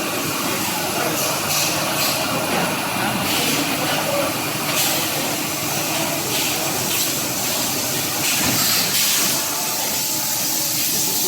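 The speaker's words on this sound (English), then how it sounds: "Record machine making a record." A vinyl record press machine running inside an old vinyl factory, a steady loud hiss and steamy rushing noise with occasional clanks and bursts, continuous and close with no talk.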